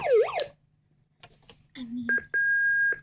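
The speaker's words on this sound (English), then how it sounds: "Oh, that's a backing up sound." A siren sweep cuts off, followed by a brief voice, then a Hess toy truck's electronic reversing beeper sounds in short repeating tones, loud and close.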